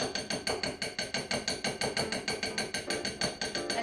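A fork taps rapidly and rhythmically against a bowl of melted chocolate, shaking excess coating off a vegan holiday candy, with a steady run of fairly quiet, close clicks and no talk.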